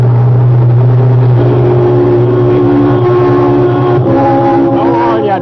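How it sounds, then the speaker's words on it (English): Radio-drama sound effect of a car overtaking a truck on a hot road: a loud, steady engine drone that holds throughout and swells with a rising pitch toward the end as the car goes by. "Oh, that car that just passed us"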